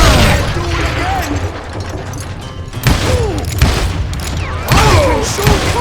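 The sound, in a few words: gunfire in video game Call of Juarez Gunslinger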